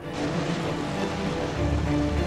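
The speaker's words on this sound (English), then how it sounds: "There's a pretty big downpour going on." Heavy rain pours down during a storm in Thailand near the sea, a dense, steady hiss of downpour with a low rumble of water or surf building toward the end.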